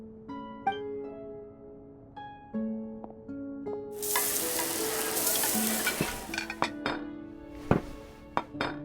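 Food sizzles and frying crackles loudly for several seconds during a cooking scene in the video game Genshin Impact, with utensil clinks, sparse game music notes and sharp clatters over the sizzle.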